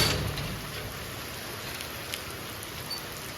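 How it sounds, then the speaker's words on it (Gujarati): Heavy rain pours down in a dense, steady hiss, with no voices. "જો કેટલો વરસાદ ધબધબાટી બોલાવવા મળ્યો છો"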